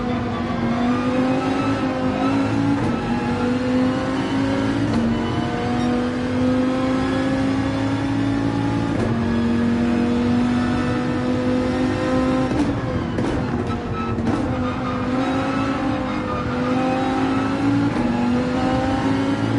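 A race car in Gran Turismo 7 roars continuously, its engine note climbing and dropping through gears as the throttle is feathered, loud and close with no talk over it.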